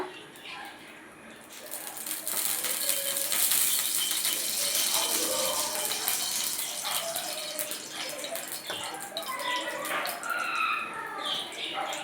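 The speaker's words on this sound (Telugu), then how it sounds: "తర్వాత సరిపడా నూనె పోయాలండి." Oil is poured into a pan heating on a lit stove, giving a soft continuous pour with light liquid splashes and sizzle-like crackle that hold steady through the clip, fairly close and moderately loud.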